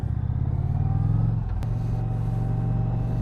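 A 2020 Indian Challenger motorcycle accelerates hard, its deep engine rumble loud and close, with a brief dip and sharp transient around a gear change before the steady drone resumes.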